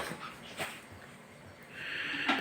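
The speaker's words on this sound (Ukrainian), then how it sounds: "Отак ми постригли собаку нашого Рокі." A dog that has just been bathed with dog shampoo and given a haircut makes a few soft, brief whimpers and snuffling breaths, close by and fairly quiet.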